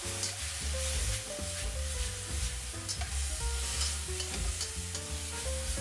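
Conch slices stir-fried in a wok with a thickening sauce, a continuous loud sizzle broken by quick tossing scrapes of the spatula against the metal, with no speech.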